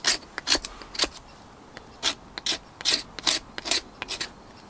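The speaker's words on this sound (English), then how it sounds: "Now you could also use it to scrape fat wood." Beaver Bushcraft 5 in 1 striker scraping fatwood into shavings, a series of short, close, rasping strokes in uneven bursts with brief pauses between.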